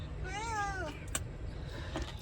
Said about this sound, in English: we have a cat in here.